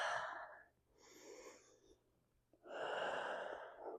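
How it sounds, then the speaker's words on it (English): Deep, slow breaths drawn during a child's pose stretch in a Pilates workout: a long exhale, a quieter middle breath, then a loud full breath, close and alone with no talking. "take a few deep breaths"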